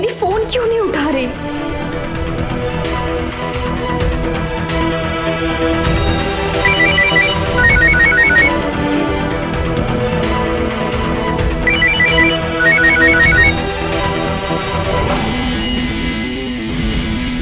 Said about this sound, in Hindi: इसका फोन बज रहा है यार।